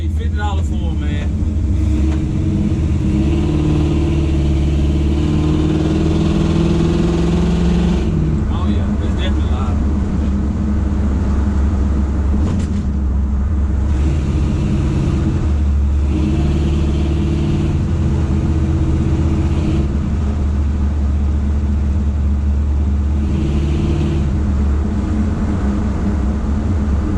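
A pickup truck fitted with new Jones full bore exhausts rumbles loudly and close, with repeated revs swelling and falling over a deep idle while someone talks over it.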